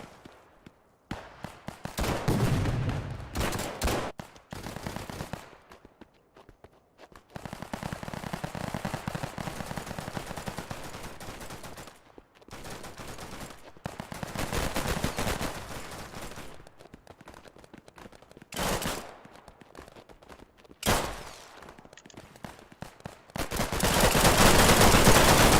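Machine gun fire in the video game Operation: Harsh Doorstop rattles out in loud, close, sustained bursts separated by short pauses, with a final long burst at the end.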